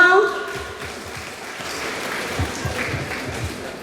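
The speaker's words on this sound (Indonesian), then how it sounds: "Tepuk tangan dong." Audience clapping at a group exercise gathering, a moderate patter of hands under and after a speaking voice that opens the moment, continuing fairly evenly to the end.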